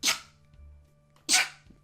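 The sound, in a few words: sneeze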